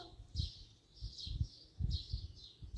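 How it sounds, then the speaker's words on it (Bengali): Small birds chirp faintly in short, repeated bursts, with soft low thumps sounding in between, in Saudi Arabia. "পাখির কিচিরমিচির শব্দ"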